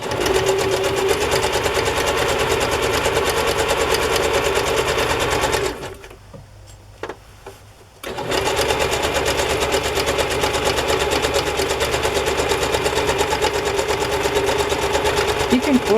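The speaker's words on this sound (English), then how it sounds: "You can forward past this if you don't want to listen to my sewing machine." Sewing machine stitching fabric for a journal cover, running in a loud steady whir that stops for about two seconds midway, then starts again and runs to the end.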